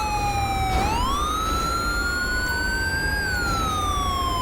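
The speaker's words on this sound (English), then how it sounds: "shut our siren off real quick" Police car siren from GTA V's LSPDFR police mod, a loud, continuous electronic wail sweeping up and down in pitch, with a sharp shift into a new cycle near the start and steady engine rumble beneath.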